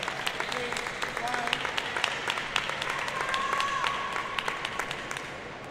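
A stadium crowd at a table tennis semifinal between China and Japan at the 2025 Asian Championships gives steady applause and scattered claps, a continuous distant wash of noise with occasional sharper hand claps.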